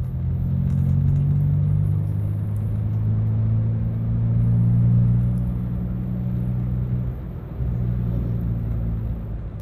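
A car drives along a road toward Sengeti in Jambi, Indonesia, at about 40 km/h, with a steady close low engine rumble and road noise throughout and no voices.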